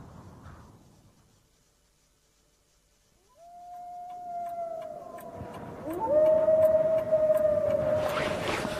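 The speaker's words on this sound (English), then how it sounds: "It was just like wolves howling." A long rising howl that starts faint and swells louder, joined by further overlapping wolf-like howls building toward the end.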